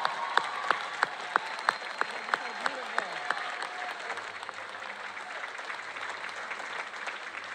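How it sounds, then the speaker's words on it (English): Audience applause for honored teachers at a county Teacher of the Year celebration, opening with several sharp, separate claps and then swelling into steady, sustained clapping from a large crowd. "let's give every one of these teachers another round of applause"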